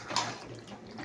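A small splash of water poured into a cooking pot holding potatoes, a short close gush that fades within a second, with no talking.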